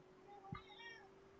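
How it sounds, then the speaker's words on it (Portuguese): A house cat meows once, short and fairly faint, close by indoors while a steady hum runs underneath. "o gato tá do meu lado aqui, miando"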